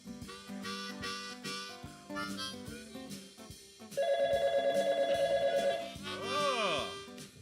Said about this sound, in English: the phone is ringing at the haunted phone booth